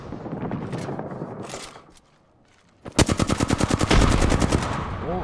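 Automatic weapon fire in the battle royale shooter Apex Legends: after a short lull, a rapid, loud burst of evenly spaced shots rattles on for more than two seconds, following a stretch of muffled in-game noise.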